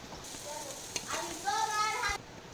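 Potatoes dropped into a pan of sautéing egg curry set off a short burst of sizzling and stirring clatter, close and moderately loud, with a faint voice in the background.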